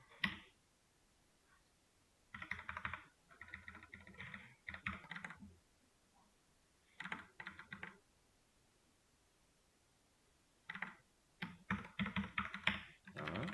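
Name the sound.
computer keyboard typing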